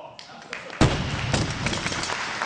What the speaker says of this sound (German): wenn die Gewichte auf das Podium knallen, dann kann man die Leistung der Sportler förmlich hören